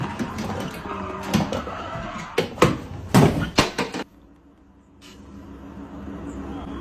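A car crashes in a sim racing game: a run of loud thumping impacts and scraping bursts over engine noise, then a sudden cut to near silence with only faint background hum.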